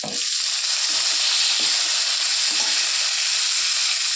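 Chopped onion and papaya pieces sizzle in hot oil in a pan, a steady, fairly loud frying hiss with a few soft stirring scrapes and no voices.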